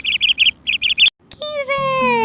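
Caged birds chirp in two quick bursts of three bright, sharp tweets each, then a longer high gliding call fades down over a faint low hum, close and clear.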